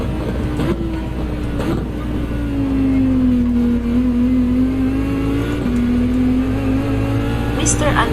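Peugeot race car in the Gran Turismo 7 racing game, its engine holding a steady droning pitch that rises and dips slightly as it runs, continuous and fairly loud throughout.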